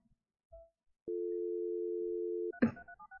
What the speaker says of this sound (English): The dial tone.